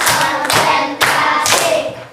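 A classroom clapping routine with a group of children counting off hand claps: four loud, sharp bursts of clapping, each about half a second apart, close and in a steady rhythm, with no talk over them.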